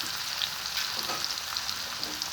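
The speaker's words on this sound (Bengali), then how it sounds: "একটু লাল লাল করে ভুনা হয়ে আসলে আমি দিয়ে দিচ্ছি খইয়া মাছ।" Khoiya fish goes into a hot pan of browned onions and fries with a dense, steady sizzle that stays loud and constant throughout, close up and free of any voices.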